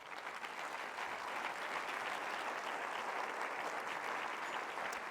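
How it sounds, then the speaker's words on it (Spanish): Congregation applauding inside a church during a sermon, a steady, dense wash of many hands clapping that holds evenly throughout at moderate distance. "Denle un aplauso al Señor."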